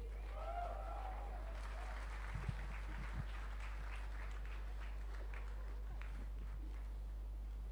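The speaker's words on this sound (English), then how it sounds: "Let's have a huge round of applause" Faint, distant crowd applause at a live arena concert following a drum performance, a thin crackle of many hands that follows a brief voice, with a few footstep-like knocks mixed in.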